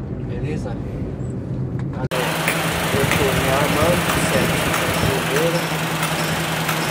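A Honda Civic engine idles steadily while warming up, a continuous low hum with a faint higher whine, close by and steady throughout, with a brief cut near the start and some speech-like activity over it.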